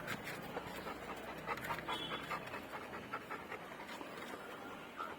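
A large, careful pet dog panting steadily and quickly at close range, a continuous rhythmic breathy huffing with no talk over it.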